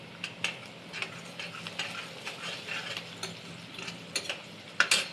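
Turmeric fries in a pan for a snack recipe: a soft sizzle runs under repeated scraping and clinking strokes of a spoon stirring close by, with no talking.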